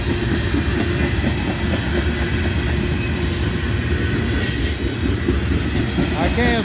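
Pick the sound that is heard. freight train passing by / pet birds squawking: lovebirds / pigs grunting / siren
freight train passing by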